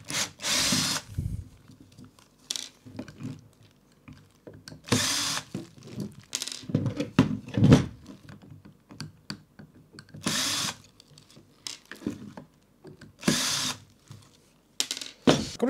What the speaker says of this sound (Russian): Откручиваем 4 саморезика.